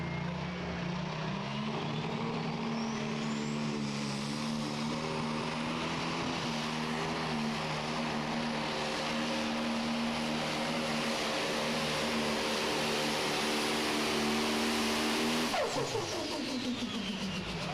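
A John Deere super modified pulling tractor spools up at a tractor pull in Goshen, with a loud, sustained, rising engine roar that holds and then drops off sharply near the end.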